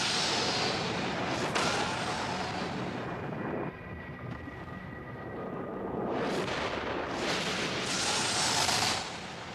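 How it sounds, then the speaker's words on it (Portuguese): A comet exploding over North America as a documentary sound effect: deep, rolling booms and roaring blasts surge, fade into a low rumble, then erupt again in several loud waves. "um cometa explodiu sobre a América do Norte, deixando a superfície destruída."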